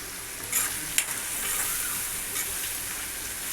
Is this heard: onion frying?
yes